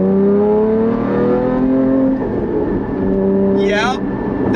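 A Porsche 981 Cayman GT4 with an iPE exhaust pulls hard on a straight road, a loud close engine note rising in pitch, then easing off, with a brief whistling burst near the end.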